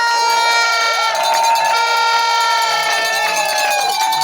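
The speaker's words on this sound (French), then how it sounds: "M. Alain et Mademoiselle Cécile, que je vous prie d'acclamer très très fort." A crowd at a civil wedding ceremony cheers and acclaims the newlyweds in a loud, continuous roar of voices and shouts, with tonal, music-like sounds through it.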